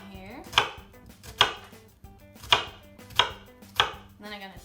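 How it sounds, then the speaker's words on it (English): A knife cuts an onion into strips on a cutting board, five crisp chops at an uneven slow rhythm, close and clear with quiet pauses between. "I'm going to cut strips down the onion here"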